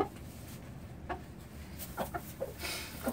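A hen at a 4-H poultry showmanship event clucks in a few short, soft bursts spaced across a few seconds, close by over a low background hum.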